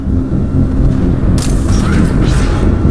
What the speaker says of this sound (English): Shield yourself from the blast.